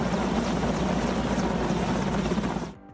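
A firefighting helicopter flies over a forest fire in Luhansk region, with a loud, steady rotor chop and turbine roar that cuts off abruptly at the end.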